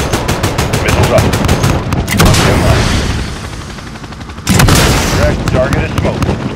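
Missiles launch and explode in a Call of Duty Modern Warfare battle, with loud rapid gunfire bursts, heavy booms and rumbling blasts that briefly drop off and then return sharply, close and dense.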